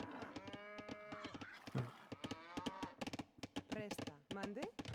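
Repeated cattle moos from a real-time strategy video game, several overlapping calls in quick succession while a commentator talks over them.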